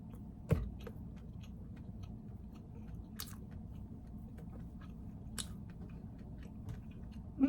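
Someone chews a bite of caramel apple French toast bake with big apple chunks, making soft, close, steady mastication sounds with a few crisp clicks, and no talking.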